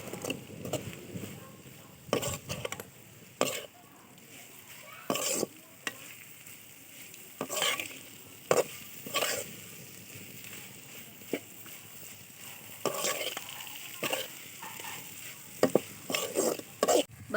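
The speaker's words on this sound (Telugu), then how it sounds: "ఇందులో అయితే వేసేసుకొని బాగా కలుపుకోవాలన్నమాట." Fried okra (bhindi fry) is stirred in a hot pan, with a continuous sizzle under repeated scraping strokes of a spoon, close and moderately loud, without speech.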